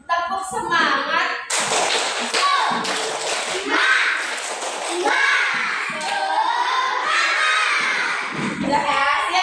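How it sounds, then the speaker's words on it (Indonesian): Schoolchildren in a classroom do a rhythmic spirit clap, loud patterned claps and hand thumps mixed with children's shouting voices in a dense, continuous burst. "Nah, sekarang tepuk semangat ya."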